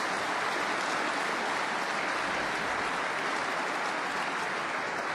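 A big crowd at a snooker semi-final of the 2024 Northern Ireland Open applauds a safety shot with steady, dense clapping that continues evenly throughout.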